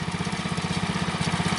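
A Bolens Husky 600 garden tractor with a swapped-in engine runs at a steady idle, its close, even low thrum pulsing in a regular rhythm with no talk over it.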